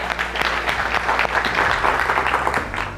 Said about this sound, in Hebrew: מחיאות כפיים קודם כל לכם.